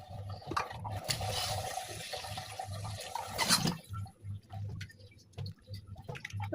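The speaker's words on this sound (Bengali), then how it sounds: "এবার ডালগুলো ধুয়ে নিব।" Lentils rinsed in water in a home kitchen, with steady splashing, swishing and running water throughout and a louder surge partway through, no talking.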